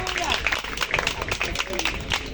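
A church congregation applauding and cheering the Lord during a French-language service, a brief spell of lively clapping with a speaking voice mixed in.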